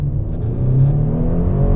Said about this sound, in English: ZR2 accelerates